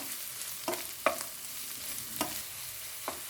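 Chopped onions and garlic sauté in a pan for veg fried rice: a soft, even sizzle broken by four sharp spatula scrapes and stirs, with no talking.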